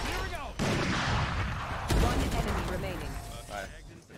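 Gunfire in a shooter video game: sharp loud shots cracking out at intervals, a burst at the start and another near the middle, layered over busy game noise and voices talking.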